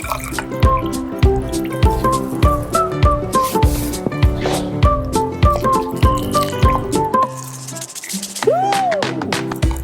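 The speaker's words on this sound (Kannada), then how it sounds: "ಸ್ವಲ್ಪ ನೀರನ್ನು ಹಾಕಿಕೊಳ್ಳೋಣ ಅದಕ್ಕೆ" Water pours in for an amla drink, a run of hollow, rhythmic drips and glugs with rising tonal plinks like liquid filling a vessel, close and clear, ending in a brief gush; no voices.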